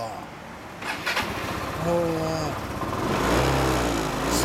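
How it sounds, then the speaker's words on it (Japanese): A 125cc Yamaha BW's scooter engine starts up, with a brief starter whir followed by the engine catching and settling into a low, steady idle with a slight rev, close by, while people talk nearby. "でもオッケー、エンジン音聞かせて。"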